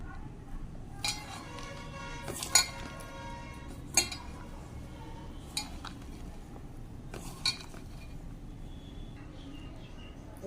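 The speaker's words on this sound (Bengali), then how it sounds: "এক চামচ কর্নফ্লাওয়ার এবার মিক্স করে নেব" A spoon works through sago pakora batter with a spoonful of cornflour in a bowl, giving soft stirring rubs broken by a handful of separate metallic clinks and taps against the bowl.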